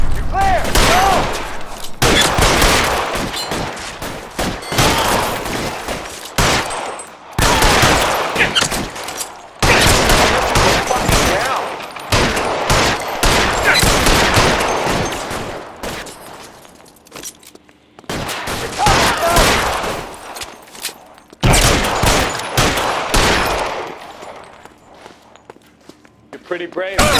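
A shootout in the video game L.A. Noire brings loud, repeated bursts of gunfire in clustered volleys separated by brief pauses, with voices speaking between the shots.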